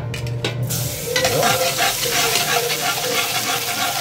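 Garlic drops into hot oil in a pot and sizzles loudly and steadily, a dense close frying hiss that holds for several seconds after a brief quieter start.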